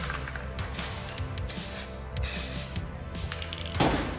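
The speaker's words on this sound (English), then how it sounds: "Alright, so we're just going to spray some paint over here" Aerosol spray paint cans hiss in a series of short and longer bursts over water for hydro dipping, close and fairly loud, with brief pauses between sprays.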